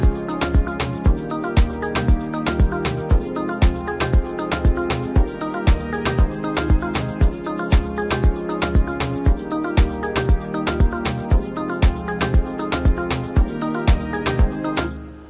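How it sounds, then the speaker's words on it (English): Afro House track built in FL Studio with added brass parts, playing alone as a steady four-on-the-floor groove with a punchy repeating kick and layered sustained tones, loud and close. "And then the next thing was to add some brasses so that the song can shine a little bit on the climax, so it sounds like this."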